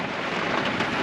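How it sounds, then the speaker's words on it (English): Cold rain pouring steadily, a dense, even wash of broadband hiss with no pauses, close and fairly loud, heard alone without talk. "Cold rain."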